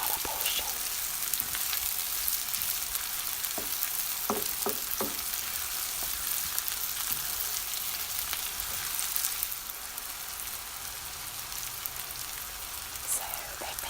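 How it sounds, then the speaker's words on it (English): Two red onions sauté in about half a cup of oil, giving a steady, soft sizzle and crackle throughout with a few brief clicks of stirring near the start. Close and even, with no talking. "It does take some time to saute the onions."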